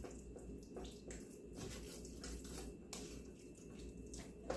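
About half a cup of water poured into a pan of beans while making nachos, a steady running splash with no one talking.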